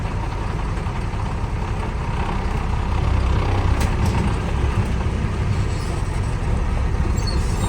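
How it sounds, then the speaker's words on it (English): A black International Class A truck idles and rolls forward gently before braking, a steady low engine rumble that swells slightly midway, with a faint hiss near the end. "Now I'm going to pull forward gently."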